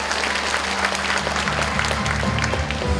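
Sustained, dense applause from a seated audience at a county talk concert, steady and fairly loud throughout, with a low sustained hum underneath.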